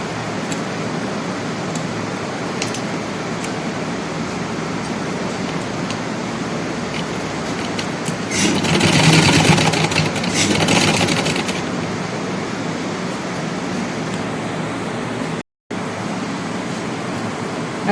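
A sewing machine runs in a steady burst of stitching while piping is sewn onto an umbrella frock, rising louder in the middle over a constant background hum with no talking.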